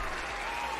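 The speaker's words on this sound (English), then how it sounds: "It's so loud. The applause is so loud." Applause sound effect on a livestream, a dense wash of clapping that fills the whole moment at a steady level, with no voices over it.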